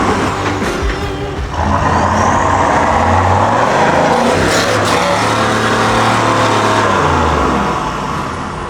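A Toyota Hilux off-road truck strains for traction while hung up on its rear differential, its engine roaring loud and close with uneven revving surges and drivetrain rumble throughout.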